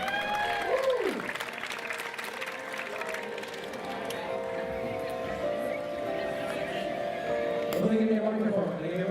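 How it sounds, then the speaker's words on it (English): Scattered audience clapping at an outdoor parade, moderate and somewhat distant, mixed with crowd chatter and a voice speaking over it. "Everybody clap for me."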